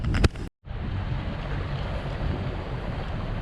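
A small boat motors slowly out of the harbour at Pethally just after launching, with steady wind buffeting the microphone and a wash of water noise throughout, briefly interrupted near the start.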